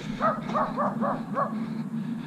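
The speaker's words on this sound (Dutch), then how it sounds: "Mijn supporters, de honden." Several dogs bark in a quick series of short yips and woofs during a countryside walk near Uden, moderately distant, over a steady low hum.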